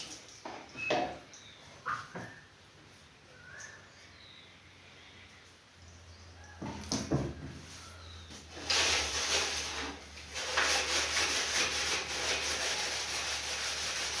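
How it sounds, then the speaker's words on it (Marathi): A kitchen counter is scrubbed by hand: scattered rubbing scrapes at first, then a sustained, louder continuous scouring over the last few seconds, with no speech. "ओट्टा सगळं घासून घेते"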